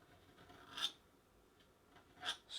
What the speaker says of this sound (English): scrapes with the palette knife again